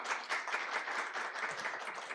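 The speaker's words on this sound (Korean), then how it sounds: "큰 박수 부탁드립니다." An audience at a Korean personal-information policy forum applauds a presenter, a fairly soft but dense, even roll of many hands clapping throughout.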